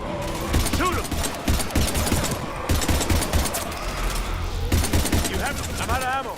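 Rapid automatic gunfire in Mass Effect 2 firefight against husks, loud sustained bursts with brief gaps, layered under shouted voices.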